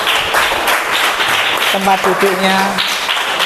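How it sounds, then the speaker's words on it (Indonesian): Applause for a classroom of students going back to their seats at a school event is a steady wash of clapping throughout, with a person talking over it partway through. "Kita hantarkan masing-masing kelompok ke tempat duduknya dengan tepuk tangan."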